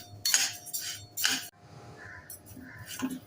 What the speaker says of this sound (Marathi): कोणताही तुम्ही जुना तांदूळ इथे वापरू शकता हाताला थोडासा चटका लागेपर्यंत भाजून घ्यायचे